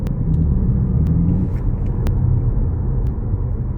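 A Cupra car engine in Cupra sport driving mode rumbles loudly and steadily, with a deep continuous drone and a few sharp clicks scattered over it; nobody speaks.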